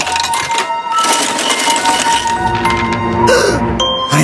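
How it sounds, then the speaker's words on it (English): A coin clinks into an oracle arcade machine in a cartoon superhero-girls short, a bright metallic chink and rattle heard close amid other cartoon sound effects and music. "Insert coin."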